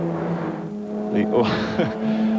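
Stock standard touring cars racing at Bathurst in 1991, engines droning and rising in pitch as they pass, with a broadcast commentator talking over the steady motor noise.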